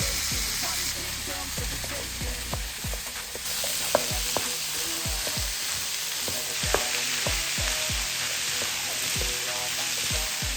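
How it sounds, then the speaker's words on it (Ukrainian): Vegetables fry in the same oiled pan used for beef steaks, a loud steady sizzle up close with repeated stirring knocks and scrapes. "Прямо в цю пательню додаємо наші овочі, щоб вони смажились."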